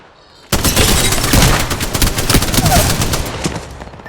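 Sustained video game gunfire erupts suddenly after a quiet moment, a dense fusillade of rapid machine-gun shots and booms that runs loud and continuous before easing off slightly at the end.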